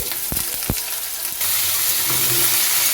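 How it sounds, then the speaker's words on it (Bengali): Diced potatoes frying in hot oil in a pan, a steady bright sizzle that swells louder partway through, with a few sharp clatters of a utensil near the start. "এবার ডুমো ডুমো করে কেটে রাখা আলুটা দিয়ে ভেজে নিচ্ছি"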